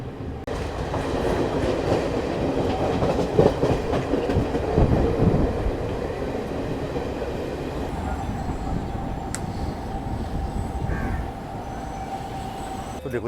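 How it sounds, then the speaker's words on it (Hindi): Garib Rath Express train at Shahjahanpur station, a steady rumble of wheels and carriages near and loud that eases as it slows, with a faint squeal and a brief tone toward the end. "तो देखो यहाँ पे ट्रेन का हॉल्ट नहीं था, पर ट्रेन यहाँ पे रुक चुकी है।"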